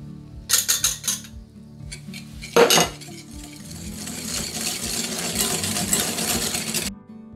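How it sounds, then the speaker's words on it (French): Egg yolks whisked with sugar in a mixing bowl for a praline and coffee Yule log, heard as close clinking and scraping of a whisk against the bowl, first in quick bursts, then a steady, continuous rattle until it stops. "les œufs, les jaunes, que je vais blanchir avec le sucre."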